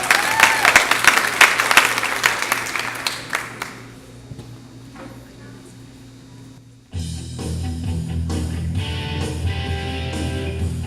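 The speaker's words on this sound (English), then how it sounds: "If you can give him a nice round of applause, please." A large audience at a talent show quarter-final claps loudly and steadily for a few seconds before the clapping thins out. A band then kicks in abruptly.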